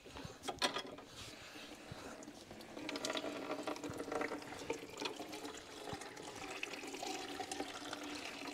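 Apple cider juice pouring from a cider press in a woodyard, a steady trickling, splashing flow mixed with creaks and clunks of the press mechanism.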